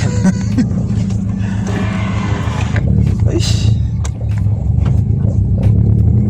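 A car engine revs and accelerates with a deep, rumbling drone that rises and surges, close and loud throughout.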